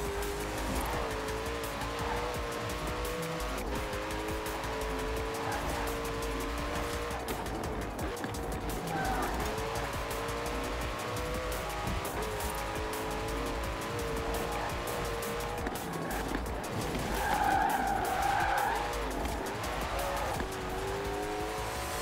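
Koenigsegg One:1 hypercar in Forza Horizon 4, its engine roaring steadily through a fast section while tires squeal and skid in several bursts, loud and continuous with no talk.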